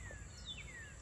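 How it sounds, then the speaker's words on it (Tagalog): Birds chirping in the countryside, a few thin high calls and short whistling sweeps, faint and distant over a quiet low background. "Maririnig mo mga huni ng ibon araw-araw."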